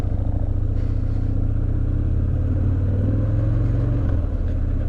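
A motorcycle engine with its stock exhaust idles steadily, heard from the rider's position as a continuous low, throbbing rumble with a slight rise in pitch toward the end, loud and alone without talk.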